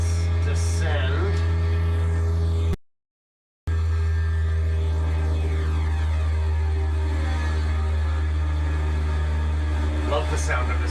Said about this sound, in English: The twin engines humming together sounds really cool.